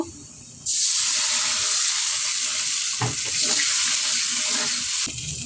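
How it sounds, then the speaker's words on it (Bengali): Water pours into a hot pan of browned onions and spices with a sudden rush and hiss, settling into a steady, bubbling sizzle; a light clink partway through. "এখন আমি একটু পানি দিয়ে দিব"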